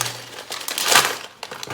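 A plastic bag of LEGO parts tears and crinkles open in a brief, close, crisp burst of rustling, peaking in a sharp rip before a few softer crinkles and small clicks, with no talk.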